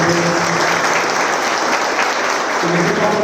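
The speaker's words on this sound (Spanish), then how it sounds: "Debe ser que le den un aplauso a la gente de Acros también" Sustained audience applause at the Data Management Summit Ecuador 2025 for the Acros team, a dense, steady wash of many hands clapping throughout, loud and even, with faint voices mixed in.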